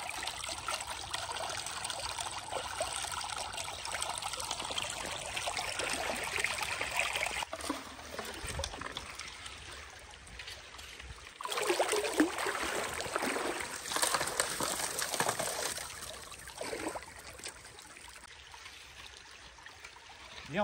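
Water runs steadily through a Bigfoot sluice during outdoor gold sluicing, a continuous rushing trickle that swells louder midway and then settles again, with no talking.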